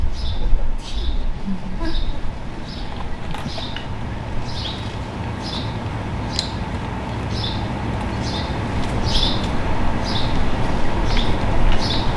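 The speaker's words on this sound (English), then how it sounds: "Just listen to the birds." Birds sing outdoors in an alley, giving short high chirps repeated at a steady rhythm over a constant background hiss of distant ambient noise.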